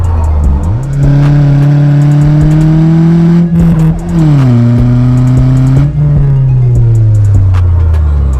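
Rally-spec VW Polo with a 1.2 TSI engine and manual gearbox revs loudly up close, its engine note climbing, dipping briefly between gear changes and rising again, with light mechanical clatter running underneath.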